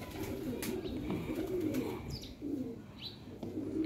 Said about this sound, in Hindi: देसी कबूतर है